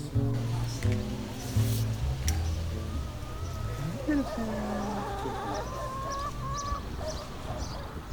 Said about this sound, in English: We've got chickens, roosters, and chickens